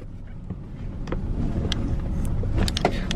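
A BMW E30's electric power window motor whirs steadily for a few seconds inside the car, fairly faint, with small clicks and rustles near the end.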